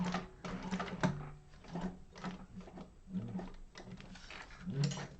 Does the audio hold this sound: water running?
no